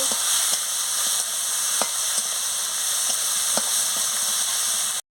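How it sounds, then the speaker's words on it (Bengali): Turmeric and chili powder sizzling in hot oil as a Bengali masala is sautéed for a fish curry, a steady loud hiss with a few soft spatula scrapes, cutting off abruptly at the end. "হলুদের গুঁড়ো আর গুঁড়ো লঙ্কা দিয়ে দিচ্ছি, দিয়ে ভালো করে মশলাটাকে কষিয়ে নিচ্ছি"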